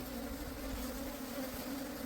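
Honeybees fighting at a hive box make a steady, close insect buzz, a constant droning hum with no pauses and no voices.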